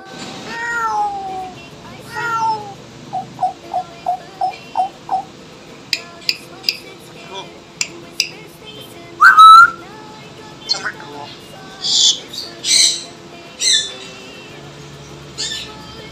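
A grey parrot runs through a string of mimicked sounds: meow-like calls, a quick series of rising whistles, sharp clicks and squawks. They come in distinct bursts, close and loud, across the whole stretch.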